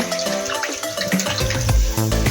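Water pours into a pan of pangas fish curry in a short, steady splashing gush close by that shifts in pitch as the pan fills, with no voices.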